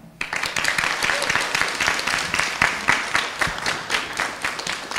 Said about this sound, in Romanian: Aplauze pentru ansamblul Argeșul al Centrului de Cultură și Arte George Topârceanu din Curtea de Argeș